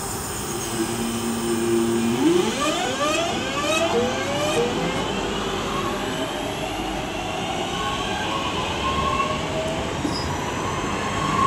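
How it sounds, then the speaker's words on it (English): A passenger train pulls away from Aston station, wheels squealing and rising in pitch over a steady rumbling hum of motors, loud and close throughout. "the uh, Bromsgrove train is departing this one is getting ready to depart"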